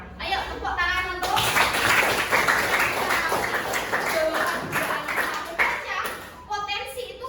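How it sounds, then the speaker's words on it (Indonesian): A classroom of children claps together in a dense burst of hand claps lasting several seconds, with a teacher's voice and kids' speech before and after. "Ayo tepuk tangan untuk"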